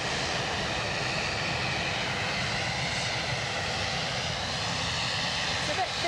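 A Norwegian airliner in a faded special livery passes by at Edinburgh, its steady broadband engine roar filling the scene throughout, with a voice talking over it.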